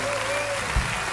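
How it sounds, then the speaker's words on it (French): A TV studio audience applauds a singer's entrance, a brief burst of dense clapping with a soft thump near the end. "Viens vite, mon petit Patrick, sous les acclamations du public."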